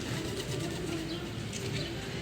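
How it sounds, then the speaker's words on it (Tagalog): Pigeons coo softly in a low, murmuring rhythm beneath a steady wash of outdoor noise, with faint talk nearby. "may mga kalapati pa"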